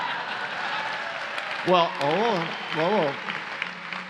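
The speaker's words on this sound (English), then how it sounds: "Half of you clap" Steady broadband applause from an audience fills the clip, with a voice speaking briefly over the clapping near the middle.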